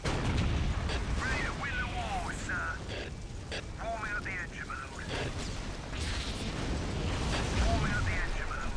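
Imperial Guard troops in Dawn of War: Dark Crusade fire volleys of gunfire and artillery, dense overlapping bangs and bursts from a distant battle that rumble on steadily, with voices and game chatter mixed in.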